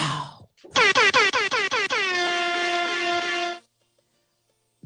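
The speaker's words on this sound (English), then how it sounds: "What happened to my air horns?" An air horn blares in a rapid string of short stuttering blasts that run into one long sustained honk, loud and alone, then cuts off into silence.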